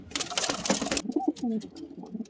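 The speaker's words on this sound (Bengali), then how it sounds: "এই হচ্ছে বন্ধুরা দুটো পায়রা" Pigeons kept for sale coo softly and close by after a second of broadband rustling, their low throaty calls rising and falling in short phrases.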